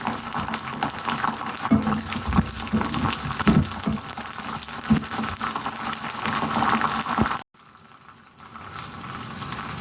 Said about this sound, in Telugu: రెండు రొబ్బలు కరివేపాకు రొబ్బలు వేస్తున్నానండి కొద్దిగా పచ్చిమిరపకాయలు కొద్దిగా ఎండుమిరపకాయలు